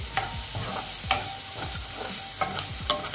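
A spoon stirs turmeric into a beetroot mixture in a pan, giving soft scraping strokes and occasional knocks over a low sizzle, close and steady with no voices.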